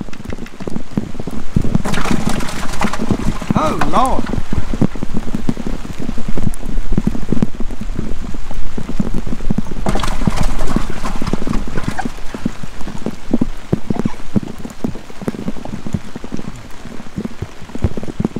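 Heavy rain pours down on a riverbank during a mayfly hatch fishing outing, a loud, dense, steady drumming that fills the whole stretch while a man briefly exclaims.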